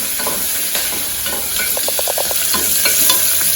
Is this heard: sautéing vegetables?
yes